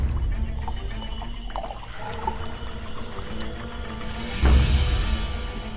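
Water poured into a drinking glass indoors, a steady trickling stream with small drips, swelling into a fuller gush near the end over a low background rumble.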